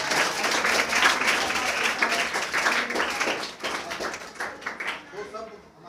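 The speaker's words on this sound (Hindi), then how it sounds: "बहुत स्वागत कीजिए तालियों से" Applause and clapping from a school prize-distribution audience fill the hall, dense and steady, then thin into scattered claps as a voice begins to talk near the end.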